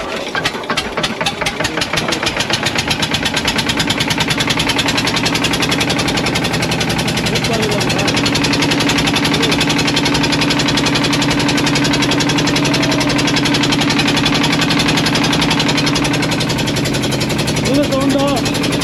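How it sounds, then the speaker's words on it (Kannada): A diesel engine on a river boat starts and then runs loud and close, a steady knocking idle with a rapid rhythmic throb that continues throughout. "ನೋಡಿ ಈಗ ಸ್ಟಾರ್ಟ್ ಮಾಡ್ತಾರೆ ಇಂಜಿನ್ನು. ಓಹೋ ಇದು ಫುಲ್ಲು ಡೀಸೆಲ್ ಇಂಜಿನ್ನು."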